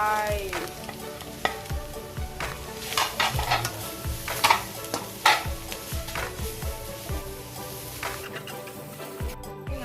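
Instant noodles and vegetables are stir-fried in a pan with steady sizzling, while a utensil scrapes and clatters against the pan in an irregular rhythm. The sound is close and continuous.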